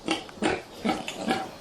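A sow with nine piglets on a pig farm grunts in a series of about five short, close bursts with brief pauses between them; no one speaks.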